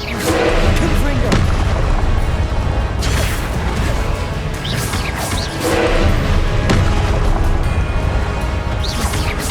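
Repeated booming blasts of the Confringo blasting curse in Hogwarts Legacy, dense crashing explosions layered over a continuous loud game soundscape with bursts recurring every second or two.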